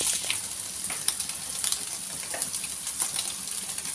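Egg, cabbage, carrot and capsicum stir-frying over high heat for fish fried rice, with a steady, dense sizzle and faint scraping of stirring throughout.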